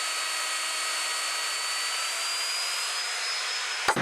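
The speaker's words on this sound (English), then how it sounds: "I use these biscuit joint cutters on my router to cut the grooves in the side of the kitchen table" A router fitted with a biscuit joint cutter cuts grooves into the side of a kitchen table, giving a steady, loud high-pitched whine that holds evenly throughout and stops abruptly at the end.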